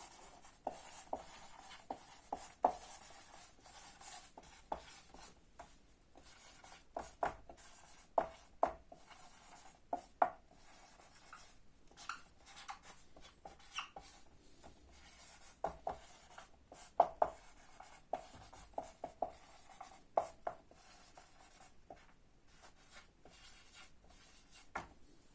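Writing on a board for a maths problem, with sparse, distinct taps and strokes in irregular bursts over a quiet room.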